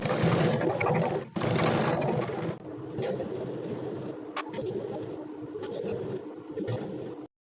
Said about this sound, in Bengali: ছোট এই পাটের উপর দিয়ে সেলাই করেছি চাপ সেলাইটা